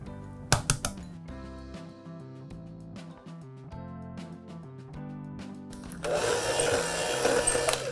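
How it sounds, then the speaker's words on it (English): Two large eggs are cracked against a bowl into a creamed butter and sugar mixture for a pineapple upside-down cake. A few sharp taps come early, then a loud motorized whir of mixing starts up near the end. "I have 2 large eggs and I'm going to crack it in"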